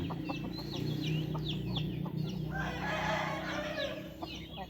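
Rooster crowing at a chicken farm: a long harmonic crow in the middle, with clucks and short chirps from other fowl before and after, close and fairly loud, with no talk.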